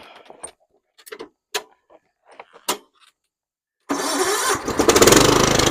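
Scattered clanks and handling noises, then the small gasoline engine of a Cub Cadet CC600 walk-behind lawn mower pulls and roars to life, running loud and steady near at hand.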